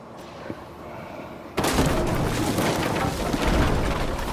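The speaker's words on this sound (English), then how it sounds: "we can take our handy flamethrower trap and destroy" A flamethrower trap in the video game Fallout 76 breaks through walls. After a quiet start it bursts into a loud, dense roar of crashing booms that lasts to the end.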